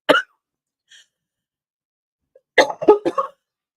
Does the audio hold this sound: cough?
yes